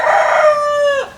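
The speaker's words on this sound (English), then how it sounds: "You can imagine 4 roosters crowing at different times" Backyard rooster on an urban homestead crowing once, loud and close, the call holding steady and then dropping sharply at the end.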